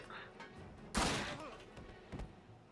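A single loud gunshot from a World War II shooter game, Call of Duty, set during British missions, bursts out sharply amid quieter game ambience, followed by a fainter second report.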